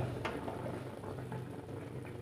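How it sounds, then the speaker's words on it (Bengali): Stuffed bitter gourd curry simmers in a pot, giving a soft, steady bubbling with small pops, quiet and close, with no talking. "ফুটে যাচ্ছে"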